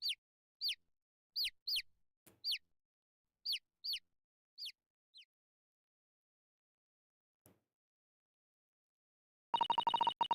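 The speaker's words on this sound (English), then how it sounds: "Why are there birds everywhere now?" Repeated high, short bird chirps ring out in bursts over the first five seconds in Ace Attorney Chronicles, followed by quiet and then a dense, loud buzzing tone at the end.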